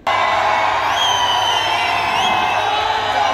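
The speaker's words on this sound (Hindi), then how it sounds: "हरियाणवी गायिका के मंच पर एंट्री होते ही दर्शकों ने ताली सीटी बजाकर उनका जोरदार स्वागत किया" A crowd at a stage show roars and whoops loudly as a Haryanvi female singer makes her entry, with a dense, continuous cheer and a few rising whistles cutting through.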